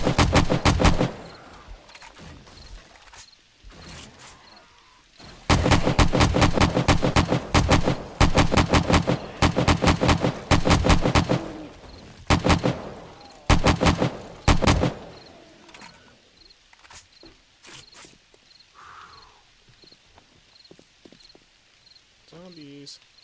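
Gunfire in the zombie survival game 7 Days to Die, with rapid bursts of loud shots in dense clusters, then pauses and scattered single shots, over a steady insect-like background hum.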